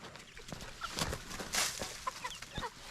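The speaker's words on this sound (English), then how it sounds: "you gotta keep your rooster like old loudmouth around" Backyard chickens cluck and squawk as they are fed corn, with a rooster among them, giving scattered close calls and soft clucks in short irregular bursts.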